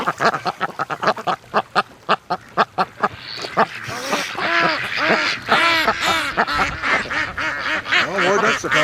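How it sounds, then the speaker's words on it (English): Ducks quack repeatedly in a rapid series, at first in evenly spaced bursts, then a busy overlapping chorus of many birds calling close by. "Oh, more ducks are coming."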